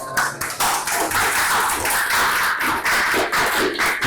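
An audience claps steadily for several seconds, many hands producing a dense patter of slaps with small surges, and no voices on top.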